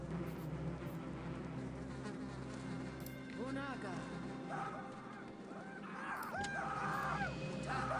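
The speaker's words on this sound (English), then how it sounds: "Have some bees." A buzzing insect swarm unleashed in the strategy game Populous: The Beginning, a sustained droning hum under game effects and faint warbling tones.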